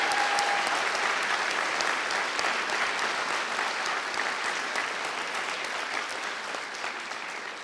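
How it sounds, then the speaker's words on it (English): New graduates at a University of Galway winter conferring ceremony give a warm, sustained round of applause for their families and friends, a broad hall-filling clatter that slowly fades. "give a warm round of applause to your families and friends"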